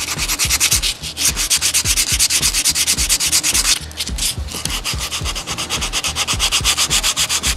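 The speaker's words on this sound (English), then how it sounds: "So we could sand this back." Rapid, rhythmic hand sanding of body filler on a car, loud close strokes scraping back and forth in a steady beat with two brief pauses, no voices.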